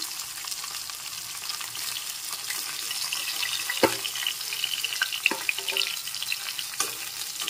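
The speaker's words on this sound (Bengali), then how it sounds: "ভেজে নেওয়া মাছগুলোকে তুলে নিচ্ছি আমি। এই তেলেই রান্নাটা করে নেব।" Fish sizzling in hot oil in a pan, a steady bright crackle with a few sharper pops and clinks, moderately quiet and with no talking.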